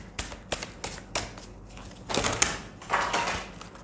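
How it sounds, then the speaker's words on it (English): Tarot cards are shuffled by hand in a series of crisp riffling snaps and soft shuffling bursts, close and quiet with no talk. "I'll take it and I'll shuffle again."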